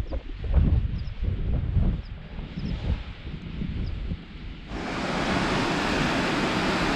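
Waterfall beside a lunch spot on the Coast to Coast walk in drizzly weather near Haweswater, first a softer washing rush, then a loud dense roar of falling water filling the rest.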